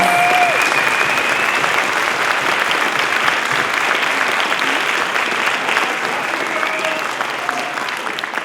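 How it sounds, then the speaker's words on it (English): A convocation audience gives a sustained round of applause, dense and loud throughout, filling the hall steadily for over eight seconds before fading slightly at the end. "Let's give them a round of applause."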